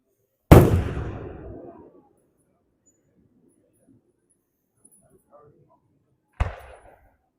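Fireworks at an early Fourth of July town celebration: one loud, close boom with a long rumbling decay, quiet crackle, then a second sharp burst near the end.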